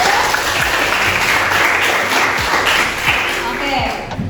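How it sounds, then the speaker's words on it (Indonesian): A classroom audience applauds after a student's economics presentation: dense, continuous clapping from many hands, loud and close, with voices mixed in. "Beri aplaus dulu untuk sudah selesai."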